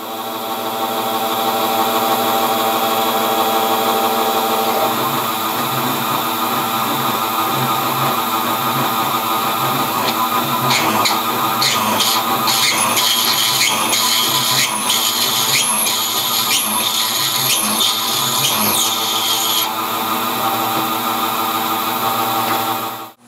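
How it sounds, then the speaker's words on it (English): A CNC mill cuts dowel pin holes in a mold half, giving a steady, loud machining whine with spindle tones and choppy cutting bursts in the middle, running alone throughout. "This is supposed to mill out the holes for the dowel pins"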